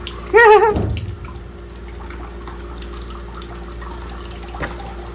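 Water poured onto the bare ground of a house crawl space lands in a short splashing burst near the start, then fades to a quiet, low background.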